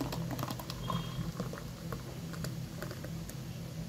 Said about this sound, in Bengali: এখন আমি একটা মগে জুসটা ঢেলে নিচ্ছি।